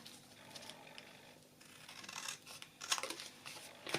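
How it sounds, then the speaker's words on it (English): Scissors snipping away an excess strip of decorative paper stuck onto cardstock, a few quiet crisp cuts and light paper rustles building toward the end. "So when this is adhered, I can cut away what I don't need"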